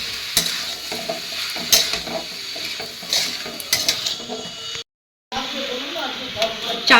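New potatoes are stirred and fried in a pan: a steady sizzle with repeated scraping, clinking strokes of the utensil against the metal. The sound cuts out briefly, then the stirring resumes.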